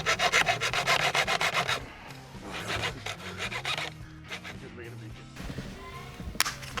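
A hacksaw cuts through parts on a Toyota Surf and Subaru project in rapid rasping back-and-forth strokes, loud at first, then softer and more broken, with people talking nearby.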